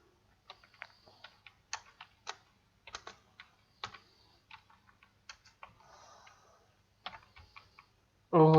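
Typing PHP operator signs on a computer keyboard: scattered, uneven key clicks and taps, close and fairly quiet, with short pauses between bursts and a louder sound at the very end.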